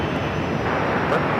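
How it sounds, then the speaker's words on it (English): A JetBlue Airbus A320 jet taking off on runway 13 right at JFK, with a steady, loud broadband engine roar that holds even throughout. "JetBlue flight 2709 with A320 taking off on runway 13 right"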